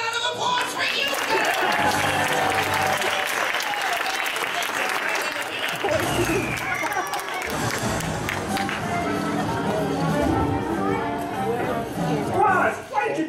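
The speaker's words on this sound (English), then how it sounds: "a round of applause for Yuka" A theater audience at a live comedy show applauds and cheers, dense continuous clapping filling the room, briefly dipping then swelling again with crowd noise and voices mixed in.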